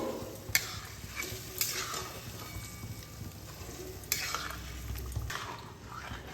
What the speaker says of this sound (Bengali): খুব ভালোভাবে চিকেনগুলো মশলার মধ্যে মিশিয়ে নেব